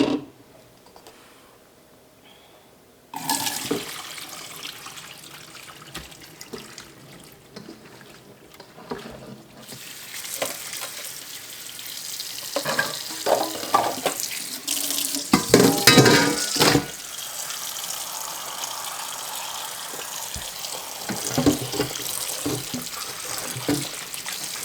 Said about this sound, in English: I am going to drain these and rinse them with cold water.